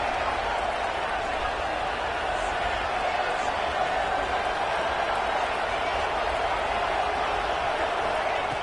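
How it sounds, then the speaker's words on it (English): A football stadium crowd during an early-game home environment, a dense, continuous roar of cheering and noise that holds steady throughout, with no clear break. "Listen to the crowd energy here in the early going."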